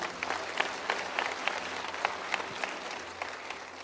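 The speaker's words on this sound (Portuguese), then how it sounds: "Você que crê, aplauda Jesus." Congregation applauding in a church service, a steady wash of many hands clapping with sharper individual claps standing out, continuous and moderately loud throughout.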